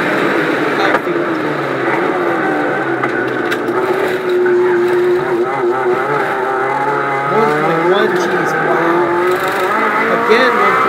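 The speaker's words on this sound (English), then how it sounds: "this is where he has to really get hard on the brakes. That's a very slow corner" An Abarth car brakes hard into a slow corner on a race circuit, its engine note dropping and droning steadily with some tyre noise over almost eleven seconds, while a commentator talks over it throughout.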